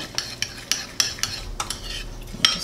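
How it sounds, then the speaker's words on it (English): A spoon stirring sugar-free caramel syrup in a mug, clinking against the sides in quick, repeated taps over about two seconds. "Going to give that a good stir so it's made a nice beautiful syrup to go over our mug cake"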